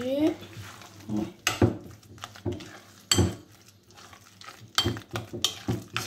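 Batbout dough being stirred and mixed by hand in a bowl, with irregular soft scraping and clinking strokes close up, broken by a few sharper knocks against the bowl, while someone talks intermittently throughout.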